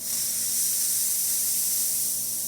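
The steam wand of a La Pavoni espresso machine gives off a steady, loud hiss of escaping steam that holds constant with no pauses, close and alone.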